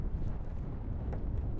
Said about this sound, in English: It's pretty windy, it's cold.